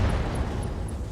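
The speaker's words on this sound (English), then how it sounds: "Gauss rifle explosion, but the explosion was contained." A Gauss rifle explodes inside a mech in the RogueTech game, heard as a dense, loud, rumbling blast that fills the whole moment with low booming noise.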